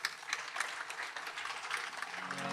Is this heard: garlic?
no